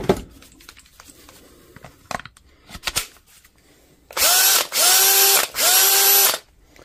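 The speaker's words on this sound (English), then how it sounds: "And we'll try on a drill." A repaired cordless drill on a Parkside 20 volt battery whirs in three short bursts, each spinning up with a rising whine and stopping, after a few quiet clicks and handling noises.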